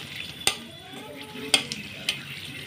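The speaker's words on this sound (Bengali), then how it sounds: "সুন্দর করে একটু কড়া করে ভেজে নেব শুকনো মরিচগুলো।" Dried chillies fry in a pan with a steady crackling sizzle, while four sharp spatula scrapes and taps land at roughly one-second intervals.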